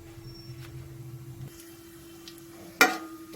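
Whole spices, two bay leaves, a dried red chili and cumin seeds, fry gently in oil in a pan for a mushroom curry, giving a faint, quiet sizzle with a brief louder crackle near the end.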